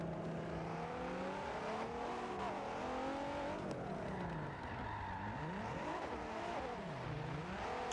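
Drift cars at the Nürburgring scream through a chase run, engines revving up and down in rising and falling sweeps with tire squeal, loud and continuous throughout.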